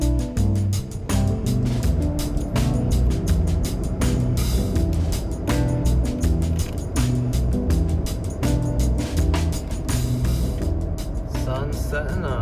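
A car cruises along a road on a long trip, its steady engine and road rumble filling the cabin while a person talks over it.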